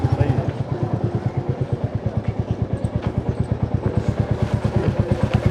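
A motorcycle engine runs steadily close by with a regular pulsing throb, as if idling while the bike is brought in and parked, and people talk over it throughout.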